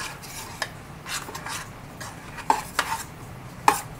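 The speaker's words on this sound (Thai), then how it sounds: "คนน้ำตาลนี่ให้ละลายให้หมดนะคะ" A spoon stirs sugar into water in a pot until it dissolves, with soft scraping swirls and a few sharp metallic clinks against the side, close and fairly quiet.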